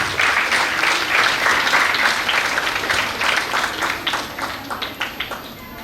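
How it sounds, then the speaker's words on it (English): An audience at an India–Japan festival conference applauds speakers on stage. Dense, loud clapping fills the room for several seconds, then thins out and fades toward the end. "Please give them a big round of applause."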